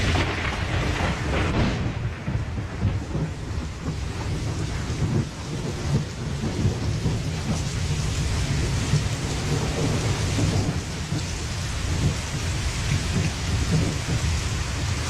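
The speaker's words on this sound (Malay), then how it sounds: "apabila hujan lebat tiba" Heavy rain pours steadily with deep rumbles of thunder rolling underneath, a dense, loud and continuous storm with no voices.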